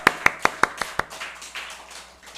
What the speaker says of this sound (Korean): 간절한 마음의 박수로 올려드리면 좋겠습니다